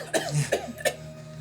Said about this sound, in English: I'm kneeling down and I'm coughing